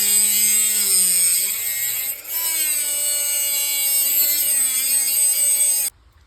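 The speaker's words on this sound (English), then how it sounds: "we're gonna cut a slit in this bolt. Grab our Dremel" A Dremel rotary tool whines at high, steady pitch while cutting a slit into a stripped steel rotor bolt on a car's brake hub, the tone dipping briefly under load before the tool cuts off abruptly.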